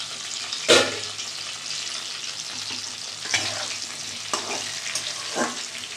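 Potatoes fry in hot oil in a home kitchen pan, giving a steady low sizzle broken by a few sharp clatters and scrapes of stirring, heard close up with no talking.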